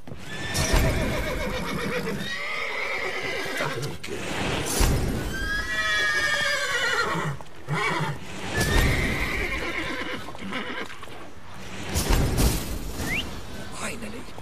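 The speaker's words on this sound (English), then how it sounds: "Gotta calm all the horses before they wake the guards." Several horses in a stable in The Witcher 3: Wild Hunt whinny and neigh repeatedly, with shrill calls rising and falling over snorts and clip-clopping hooves, some neighs fairly close and loud.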